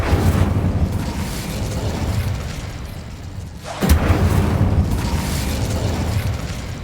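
Incendio fire spell blast in the video game Hogwarts Legacy, a loud whooshing burst of flame with a sharp new blast midway, over continuous roaring game noise.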